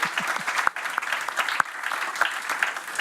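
Steady clapping from an audience at a cryptocurrency conference, a brisk crowd patter with a few sharper individual claps standing out near the front.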